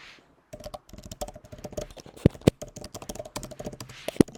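Someone typing a title on a computer keyboard: a close, quick run of clicking keystrokes with a few heavier taps, probably the space bar, starting after a brief silence.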